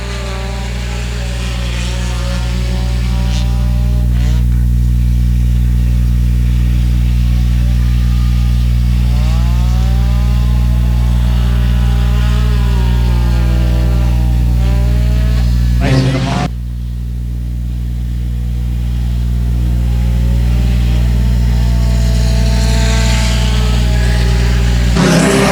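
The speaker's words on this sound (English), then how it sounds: "Green flag racing, here we go." Dirt track race cars roar together under green flag racing, their engines loud and close with revving that rises and falls, and a brief dip midway before the pack surges again; a voice commentates over the noise.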